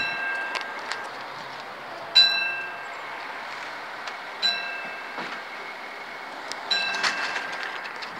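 A train runs past the Wokingham level crossing with old barriers near the station, a faint steady rolling hum punctuated by several sharp metallic clanks and clicks from the wheels.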